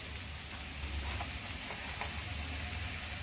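Spices sizzling in hot oil in a pan with turmeric powder just added, a dense, even crackle and hiss that holds steady throughout with no voice over it.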